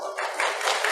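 A church congregation bursts into applause after singing a birthday song, a dense burst of many hands clapping close by that begins after a brief moment and continues steadily to the end.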